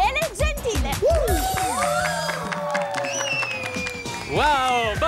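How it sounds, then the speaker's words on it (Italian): Children applaud and cheer for a magician on a TV variety show: loud crowd clapping and excited shouting fill the space while an adult host talks and exclaims over it and whistling, sweeping musical effects rise and fall. "Che bell'applauso che sento!"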